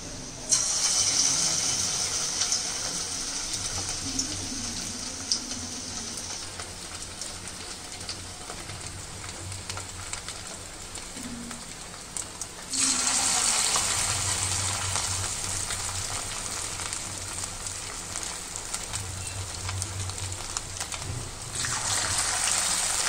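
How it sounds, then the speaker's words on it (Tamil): Leftover rice vada batter dropped into hot oil in a pan: a continuous loud hiss and sizzle that jumps louder around thirteen seconds and again near the end, with no voices. "நம்ம கரெக்டான பதத்துக்கு மாவை மிக்ஸ் பண்ணதுக்கப்புறம் பேனில் ஆயில் சூடாகிடுச்சு, இப்போ நம்ம பேனில் போட்டுடலாம்."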